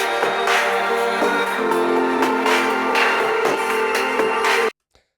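A music track heavily compressed and dirtied with Devil-Loc and Erosion distortion: a dense, gritty, fizzy wash with rhythmic swells, loud and steady for under five seconds before stopping abruptly into silence.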